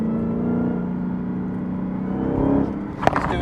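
A 707 bhp Dodge Hellcat on cheap tyres drives steadily with a continuous close engine drone and whir, swelling slightly near the end before a brief sharp knock.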